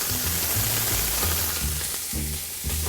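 Pieces of rabbit sizzle in a hot pan, cooking for a mustard and white wine dish, with a steady, loud, close crackle and hiss throughout and no talk.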